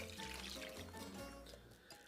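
Chicken broth poured into a soup pot for a chicken noodle soup, a soft, quiet liquid trickle and splash running steadily for a couple of seconds.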